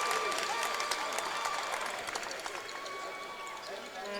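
Crowd noise at a high school basketball game in Harbour Station, a busy wash of clapping and cheering with sharp claps and squeaks, fading slightly, under a voice talking over it.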